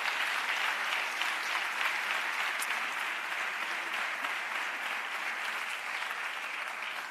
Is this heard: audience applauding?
yes